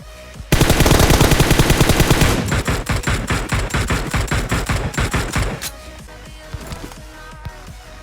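Rapid automatic gunfire from a PUBG Mobile match, loud and close, a dense sustained burst that breaks into quicker separated shots before trailing off into quieter scattered sounds.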